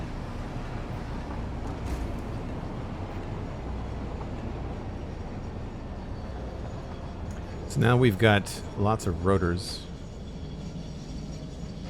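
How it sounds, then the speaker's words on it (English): A train rolling along rails in the video game Satisfactory gives a steady, low, continuous rumble throughout, with a person speaking briefly over it near the end. "Having that train really helps"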